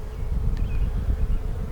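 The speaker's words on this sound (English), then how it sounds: "So there's a massive number of worker bees still hatching out here." A honey bee colony, with many worker bees still hatching out, hums as a dense, steady buzz close by, with no voices over it.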